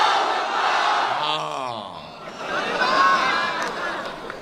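Crowd at a public political meeting shouting a chant in response to a speaker's call, a loud massed roar of voices rising and falling, with one voice leading over the din.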